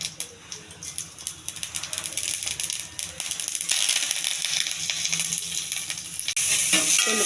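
Mustard seeds crackle and sizzle in hot oil in a heated pan, close and loud, with irregular popping that swells into a dense, steady hiss.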